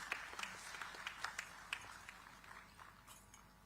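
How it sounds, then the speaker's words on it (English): At a digital technology summit, an audience gives faint applause to welcome a speaker. Scattered distinct claps stand out over a soft crowd murmur and taper off toward the end. "Let's welcome her with a huge round of applause"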